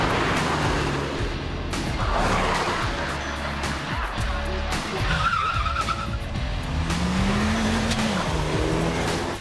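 Renault Megane race cars at the Simola hillclimb, a loud, continuous roar of engines with a rising and falling pitch as a car passes, plus tire squeal and skidding sounds.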